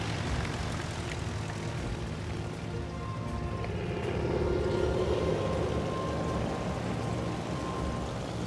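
Bomber aircraft engines in the naval game World of Warships: Legends, a steady propeller-engine drone humming beneath a dense, rain-like background wash for several seconds.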